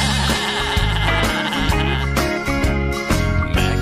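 Sheep bleating along with a loud, continuous children's song, the animal calls mixed into dense music.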